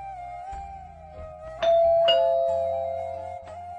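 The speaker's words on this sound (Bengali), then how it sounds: "ভেতরে গিয়ে বসা মাত্রই কলিং বেল বেজে উঠল" A two-tone ding-dong doorbell chimes clearly and fairly loudly indoors, its second note ringing out and slowly fading over a faint background hum.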